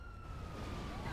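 A police car siren in the video game GTA 5 wails as a steady, rising tone for about a second over a dense background of game noise.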